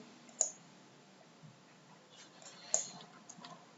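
Two sharp, faint mouse clicks in K-Loja retail stock-control software, spaced a couple of seconds apart over a quiet background, with a few softer ticks near the end.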